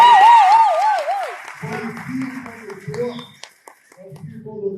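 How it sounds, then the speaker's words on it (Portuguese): An audience at a library event joins in applause after a child's performance, with clapping spread under a presenter's amplified voice and children's voices, building briefly and then fading. "uma salva de palmas"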